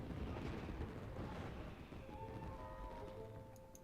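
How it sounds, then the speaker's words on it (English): Fireworks going off in Genshin Impact, heard as a dense, steady rumble of crackles and booms that fills the whole clip, with faint sparkling tones emerging toward the end. "Yoimiya, this is turning into a bit of a fireworks display."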